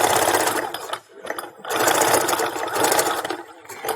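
Sewing machine stitching a fabric Christmas stocking, a loud close rapid whirring chatter in bursts separated by brief pauses as the fabric is guided around the edge.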